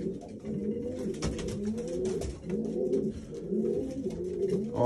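Racing pigeons coo in a loft, with soft overlapping throaty calls repeating close by over a low ambient hum.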